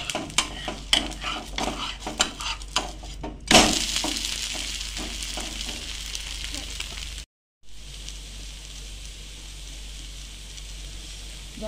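Moong and urad dal dosa sizzles on a pan after flipping, a steady frying hiss following a run of spatula clicks and scraping, with a brief cut in the middle.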